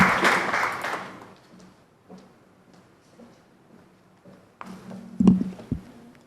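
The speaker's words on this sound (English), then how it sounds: "I think it deserves another round of applause" Applause from an audience at a policy talk on reducing family poverty, fairly loud at first, then thinning out and fading within about a second, followed by faint room noise and a few scattered knocks.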